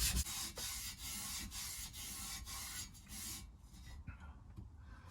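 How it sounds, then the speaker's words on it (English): Gearbox casing being scrubbed with a Scotch-Brite pad to strip the worst of the surface grime. A close, steady abrasive rubbing rasps continuously for about three and a half seconds, then stops and leaves a quiet room. "I'm going to attack it with a Scotch-Brite, just get the worst of the surface off"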